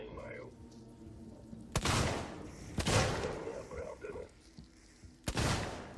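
Three sharp, loud gunshots in the video game Alien: Isolation, each followed by a rumbling tail and spaced about a second or more apart, over quiet ambient game sound with speech in the background.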